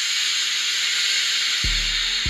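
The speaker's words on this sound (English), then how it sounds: "That steam's still coming out." A clothes steamer lets out a loud, steady hiss of steam, with a low electrical hum joining near the end.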